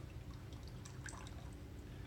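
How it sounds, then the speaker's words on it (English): Leftover water trickles and drips out of a bottle washer pump used for wine or beer brewing, a faint continuous dribble with scattered small splashy drips close by. "Make sure you turn around the pump so whatever water was left in there goes out."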